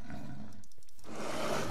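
A tiger in a Minecraft expansion modpack lets out a short growling roar, rising and fading within about a second against low game ambience, with no speech.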